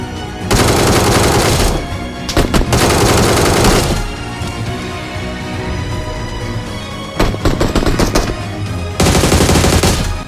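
Automatic gunfire rattles in a BGMI (PUBG Mobile) match, with long, loud sustained bursts of machine-gun fire broken by short pauses and quieter stretches, very close and dominant.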